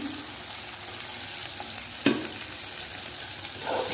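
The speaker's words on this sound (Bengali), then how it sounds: "পোস্ত বাটাটা দিয়ে দিলাম, আর এর মধ্যে একটু নুন আর হলুদ দেবো।" Poppy seed paste goes into a pan of frying potatoes and onions, setting off a steady close sizzle broken by one brief clatter midway, with no talking.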